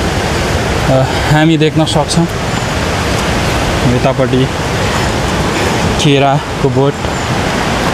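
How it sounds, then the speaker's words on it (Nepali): Steady rain patters on an umbrella outdoors in a park in Dharan, forming a constant broadband hiss beneath someone talking close by. "पानी परिरहेछ मैले चाहिँ छाता ओढिरहेछु"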